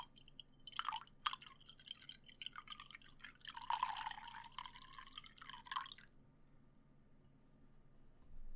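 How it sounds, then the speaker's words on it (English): Hot water poured into a bowl to top it up, a soft close trickle and splash in short bursts, then a longer pour that stops and leaves quiet. "Just going to top it up with some hot water so that it's nice and warm for you"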